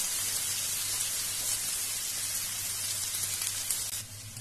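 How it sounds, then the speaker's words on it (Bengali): Onion and chopped green chilli frying in a pan of oil for a spicy poha pulao, a steady, dense sizzle like light rain that holds evenly close by throughout, with no talking. "পেঁয়াজ আর লঙ্কাটাকে ভালো করে ফ্রাই করে নেব।"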